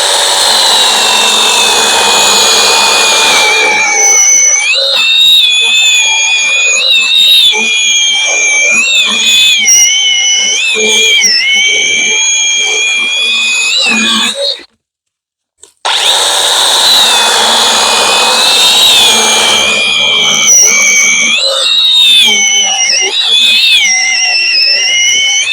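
A Mellif 20V cordless chainsaw runs loud and close with a high whining motor, pitch wavering as it loads and eases, cutting off briefly for about a second before starting up again.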